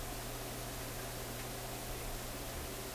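Steady hiss of static pours from a Sonora RQU-222 six tube radio tuned to nothing, a dense, unchanging broadband wash with a faint low hum beneath, continuous and fairly close.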